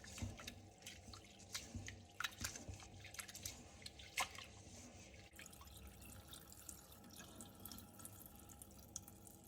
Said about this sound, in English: Clean it well until you get clear water.